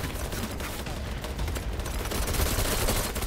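A firing squad in the Battlefield 3 video game lets off dense, continuous overlapping gunfire, loud and chaotic, filling the whole stretch and swelling toward the end.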